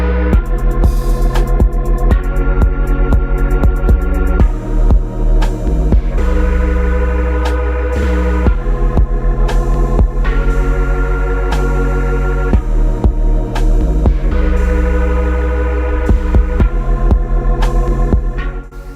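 Sewing machine stitching a skirt sounds as a loud, continuous throbbing hum with a steady mechanical rhythm, running close and without talk.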